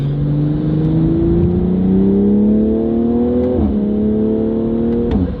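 A BMW M340i with a downpipe tune revs and accelerates loudly up close, its pitch climbing steadily through two gear changes marked by short dips, with no voices over it.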